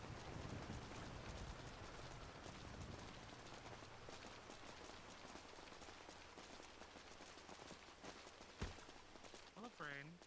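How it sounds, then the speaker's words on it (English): Rain falls in the GTA NoPixel roleplay game as a dense, continuous patter across a street scene, with one sharp knock near the end and faint voices underneath. "Full of rain, but it also makes it so hard to hear."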